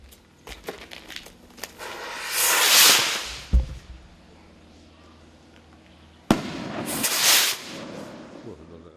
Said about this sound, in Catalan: Amb aquesta tirada de coets va començar divendres passat la festa de la Germandat del municipi.